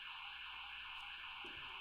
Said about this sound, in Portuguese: Disparou o alarme aqui em casa.